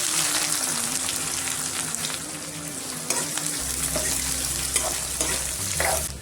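Onion, cumin and garlic fry in hot oil in a pan, a steady close sizzle broken by the scrape and clink of stirring, with no voices.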